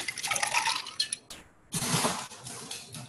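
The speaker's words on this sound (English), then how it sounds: "And we're gonna add some ice to this." Ice going into a gin cocktail muddled with mint and blackberry, a bright, loud clatter and rattle of cubes against glass in two bursts separated by a short pause.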